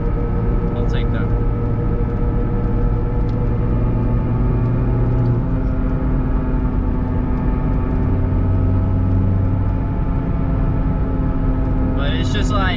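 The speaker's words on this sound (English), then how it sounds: "just stock Cobalt right now. It sounds a little rough" A stock Chevrolet Cobalt SS engine running a little rough, heard as a steady, droning hum throughout with a faint click near the end.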